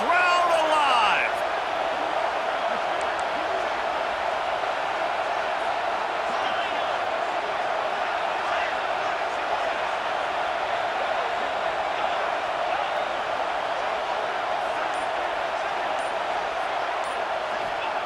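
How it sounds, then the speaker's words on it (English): A roaring stadium crowd in the college football video game EA Sports College Football 26, a steady, loud wash of cheering and noise sustained throughout, with a brief sharper burst at the start. "Crowd alive."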